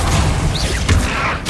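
A Confringo spell explodes in Hogwarts Legacy, a single dense booming blast that rumbles briefly and fades, with no voices.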